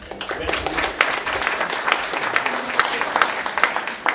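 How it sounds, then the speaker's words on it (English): Applause from a summit audience at an economic and housing development conference: lively, uneven clapping with sharp individual claps standing out, sustained throughout, and a speaker's voice faintly audible amid it. "I think we owe them an applause for that."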